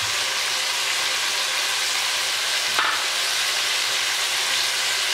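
Chicken and onions fry in a pan with a loud, steady sizzle that stays constant, with a brief clatter near the middle, close up and with no voices.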